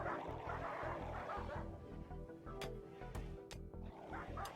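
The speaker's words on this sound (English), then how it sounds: "I'm just gonna mute the game so you don't have to listen to the barking." Dogs bark in a video game set in a boreal forest, a quick run of repeated barks and yips, fairly quiet and steady in rhythm, with a few sharp clicks near the end.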